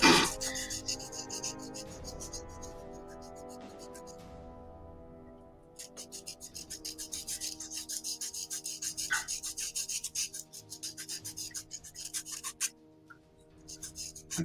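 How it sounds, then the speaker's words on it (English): A knife sharpens something by hand, making quick, faint, rasping scrape strokes in a steady rhythm, with a brief pause before the scraping resumes. "I sharpened it with a knife."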